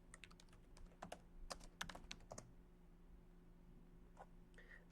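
Quiet bursts of computer keyboard keystrokes, a quick cluster of taps followed by a pause and a few more light clicks, heard close and soft over low hum.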